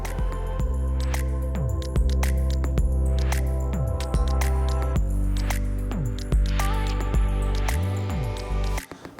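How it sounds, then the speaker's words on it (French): An automatic machine mills an electrical cabinet mounting plate with a loud, throbbing mechanical drone, rising and falling motor tones and repeated servo sweeps, close and continuous throughout. "on la voit ici qui prend l'outil adéquat et l'usinage automatique"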